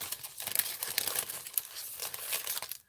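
A plastic bag crinkles and rustles as scissors cut a triangle from it, a dense crackling texture with small snipping accents, close and continuous for a few seconds with no voices.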